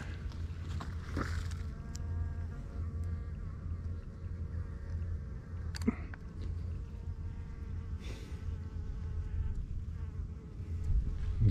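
Insects buzz steadily and close in a park with azaleas in bloom on a sunny May day in Shimane, a continuous droning hum with a brief sharp knock partway through.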